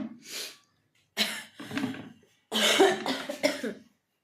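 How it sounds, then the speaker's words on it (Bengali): A person coughs in several harsh bursts close by, a single cough, then a pair, then a longer run of three or four. "কাশিটা ভালো হয়ে গেছিলো আবার কাশিটা হচ্ছে"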